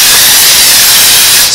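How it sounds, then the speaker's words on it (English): A spray bottle mists the inside of a plastic bin lid used for propagating hardwood rose cuttings, a loud, close, continuous hiss of spray. "I'm also going to spray the lid."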